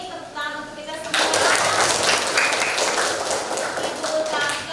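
A room of participants bursts into applause at the close of a teacher's training session, with steady group clapping that follows a short spoken line and carries on to the end.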